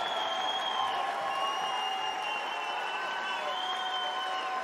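A stadium crowd at Roland-Garros applauds tennis player Nicolas Mahut during a 2025 tribute. The steady, dense clapping continues without break, with sustained tones running over it.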